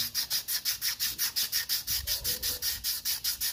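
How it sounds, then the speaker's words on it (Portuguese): Rust and grime being sanded off the rear brake drum of a 2003 Honda Twister, a steady run of about twenty rhythmic back-and-forth abrasive strokes, close and alone with no talking. "dar uma lixadinha boa aqui. Tira toda essa ferrugem, essa sujeira que tem aqui."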